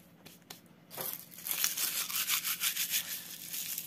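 Compost with banana peels and salad scraps being stirred for larvae, starting with a few quiet rustles, then a busy run of rough crumpling, rubbing scrapes, close and continuous.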